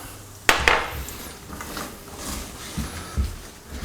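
Honey-roasted nuts being mixed with sugar in a pan, with a sharp clatter of nuts and utensil near the start, then soft scraping and a couple of lighter knocks later.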